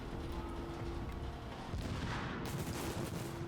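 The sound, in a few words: sticky bomb explosions in video game The Division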